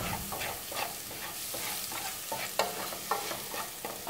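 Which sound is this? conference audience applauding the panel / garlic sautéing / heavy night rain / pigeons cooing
garlic sautéing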